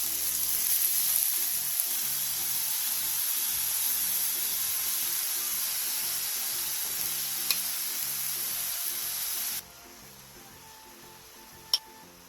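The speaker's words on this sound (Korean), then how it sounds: "예열된 팬에 팽이버섯을 골고루 올려준 뒤 버섯 위에 양념장도 골고루" Enoki mushrooms topped with seasoning sauce sizzle in a preheated pan of sesame oil over medium-low heat, a steady, fairly quiet frying hiss that drops lower near the end, with a couple of small clicks.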